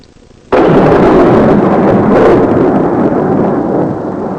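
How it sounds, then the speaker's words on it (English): Thunderstorm sound effect in a children's story: a sudden loud crack of thunder opens into a sustained, roaring rumble that stays heavy for several seconds before easing slightly. "One evening a terrible storm came up. Lightning flashed in the sky and rain tore at the castle walls."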